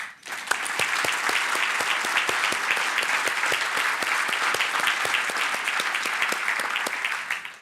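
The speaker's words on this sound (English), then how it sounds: "a round of applause for our kitchen staff" Breakfast audience at a University of North Dakota event claps for the kitchen and catering staff, a sustained round of sharp, individual claps that swells quickly and fades at the end.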